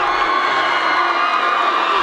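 Students at a high school pep rally screaming and cheering together, a dense, steady crowd roar with shrill whoops and children's shouts rising above it throughout.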